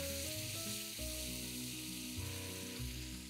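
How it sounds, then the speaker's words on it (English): Boiled, pureed and strained tomatoes sizzle in a pan with softened onions and chopped garlic, a continuous close frying hiss that plays under a steady musical tune. "After the onions soften, add in 2 tomatoes boiled,"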